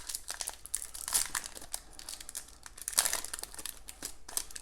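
Crinkly foil wrappers tearing and rustling as packs of 2009 Topps Total baseball cards are ripped open, close and continuous with bursts of sharper crackles.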